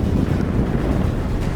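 Strong wind gusts buffet the microphone out on Lake Sakakawea during a windy day of walleye jigging from a boat, a loud continuous low rumble with no talk.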